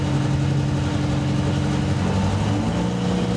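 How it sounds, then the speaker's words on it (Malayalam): A boat engine idles with a steady low rumble as the boat nears the jetty of the Maldives' capital island, constant and fairly loud throughout. "തലസ്ഥാന ദ്വീപിന്റെ ജെട്ടിയിലേക്ക് ബോട്ട് അടുക്കുകയാണ്"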